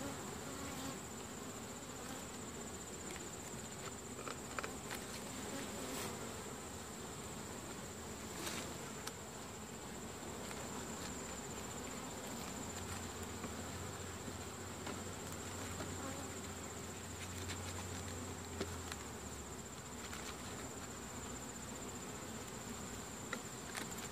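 Honey bees buzz continuously around an open hive, a faint, even drone with a steady high hum and occasional louder passes of individual bees nearby.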